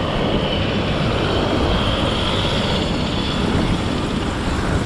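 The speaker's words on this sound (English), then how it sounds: "Now I get to breathe in the fumes of these helicopters." Helicopters over New York City produce a steady broadband engine and rotor roar heard from street level, loud and unbroken, with no distinct approach or fade.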